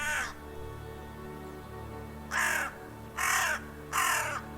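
Three loud, close crow caws repeat roughly once a second after a brief first call, each a harsh rasping burst over a steady low background hum.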